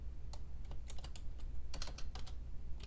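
Computer keyboard clattering as code is typed, short quick bursts of keystrokes with brief pauses, close and fairly quiet over a low hum, no talking.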